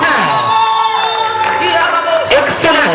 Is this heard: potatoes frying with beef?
no